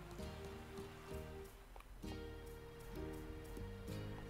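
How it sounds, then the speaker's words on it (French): Soft rain patters steadily in the farming game Story of Seasons: Pioneers of Olive Town, faint under a gentle tonal music loop with no talk. "il pleut, il neige"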